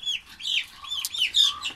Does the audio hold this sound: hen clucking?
yes